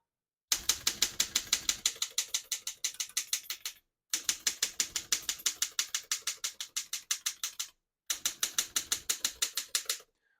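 A 1919 Underwood No.5 antique desktop typewriter types in three bursts of rapid, evenly spaced mechanical keystrike clacks separated by brief pauses, crisp and close with no talk.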